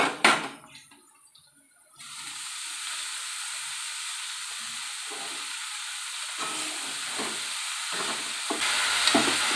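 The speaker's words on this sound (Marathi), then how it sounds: "आता आपल्याला ही भोपळ्याची पानं चिरलेली यामध्ये घालायचे" Chopped pumpkin leaves drop into onions frying in hot oil, setting off a sudden loud, steady sizzle and hiss after a brief quieter stretch, with occasional stirring scrapes and no talking.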